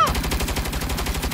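Rapid automatic gunfire from the video game Saints Row, a fast run of evenly spaced, punchy shots that keeps going without a break.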